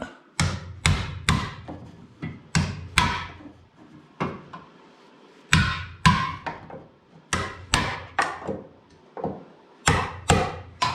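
Repeated sharp hammer blows on old rusted metal at a car body mount during welding repair work, loud close strikes coming singly and in quick bursts of two or three, with short pauses between groups.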